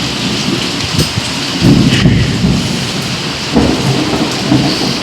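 Heavy rain pours steadily on surfaces, loud and close, while low rolls of thunder swell twice beneath the constant downpour.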